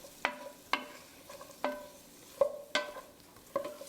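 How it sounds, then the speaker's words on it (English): A spoon stirring pepperoni and garlic in a pan: six or so distinct scraping clacks spaced unevenly over a faint sizzle, close and fairly quiet. "Just stir it."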